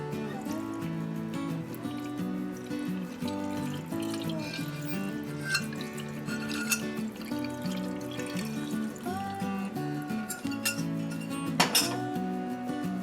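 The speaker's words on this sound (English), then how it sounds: "I'm going to pour this beet juice and sugar mixture in here." Beet juice and sugar mixture pours steadily into a glass jar of eggs for pickling, with occasional clinks, over quiet background music.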